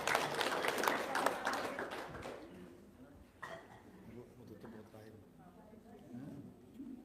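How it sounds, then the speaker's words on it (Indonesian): Studio audience claps briefly at an Indonesian talk show, a burst of hands that fades within about two seconds, followed by quieter room noise and talk. "Tepuk tangan dong."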